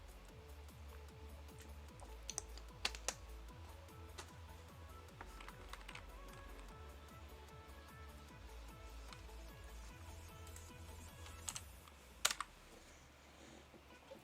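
Typing on a computer keyboard in a quiet room, a steady run of light clicky keystrokes with a few sharper louder taps near the middle and end, no one talking.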